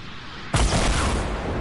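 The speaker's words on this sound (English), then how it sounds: "he starts shooting rockets at my base" Rockets explode against a player's base in Fortnite, landing as one sudden loud blast that rolls into a sustained, rumbling boom fading slightly over the following second.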